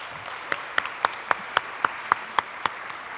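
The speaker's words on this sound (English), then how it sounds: "please give Brett a round of applause." A sparse round of applause at a student film festival awards screening: about ten crisp, evenly spaced claps, moderately faint, with no talking over them.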